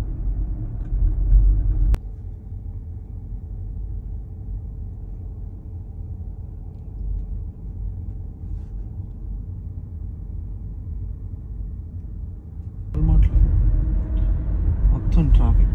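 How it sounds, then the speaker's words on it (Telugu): Steady, low engine rumble from a long line of cars queued for a Walmart gas station as Hurricane Milton approaches, with idling and slow-moving traffic droning continuously and a louder surge of passing vehicles near the end. "మొత్తం traffic just Walmart gas station కోసం."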